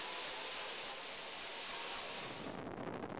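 Steady roar of a Philippine Air Force helicopter engine and rotor, loud and continuous with a broad hiss and faint rhythmic rotor pulsing, no voices.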